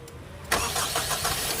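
After a brief quiet moment, a Honda CR-V engine cranks and catches, then settles into a steady running rumble nearby.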